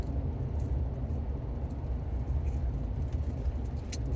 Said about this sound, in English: I go up to half throttle, and I start to hear a little bit of surging.